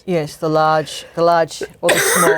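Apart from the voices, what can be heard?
cough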